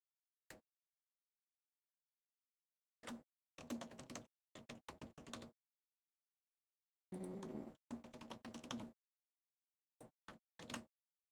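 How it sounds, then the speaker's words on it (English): Fingers typing on a computer keyboard in short clustered bursts of rapid key clicks separated by silent pauses, close, dry and fairly quiet, with no voices. "Lots of typing."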